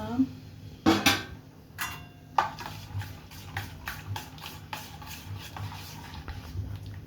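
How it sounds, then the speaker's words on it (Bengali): Batter for Bengali soruchakli pitha is beaten in a bowl, with scraping, tapping strokes of a utensil against the bowl coming in uneven bursts, a few sharp knocks early, then quicker repeated strokes, close and moderately loud. "ফেটিয়ে নিচ্ছি একটুখানি"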